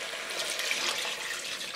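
Homemade chicken stock pours into a pot of onions for Senegalese chicken yassa, a steady close splashing gush of liquid that holds evenly for nearly two seconds with no talk.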